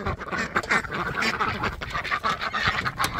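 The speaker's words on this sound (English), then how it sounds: "Look how big Super Duck is" Domestic ducks on a New Zealand homestead in spring: continuous busy quacking from a flock at feed, loud and close, overlapping calls with no pauses.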